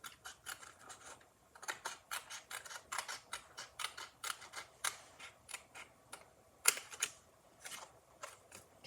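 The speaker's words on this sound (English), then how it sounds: "we're going to take our snips, and we're going to trim this off" Snips trimming cardstock for a handmade Christmas card, a quick series of crisp close snipping clicks in irregular bursts, quiet and unaccompanied by talk.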